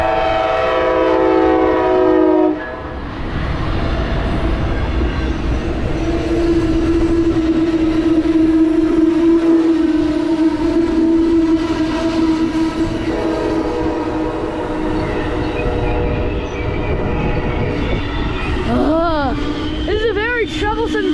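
An Amtrak-style ALC-42 diesel locomotive hauls a train past on the mainline, its engine drone and rolling wheels loud and close. Its horn sounds in several blasts and sustains through the passage, with a brief speaking voice near the end.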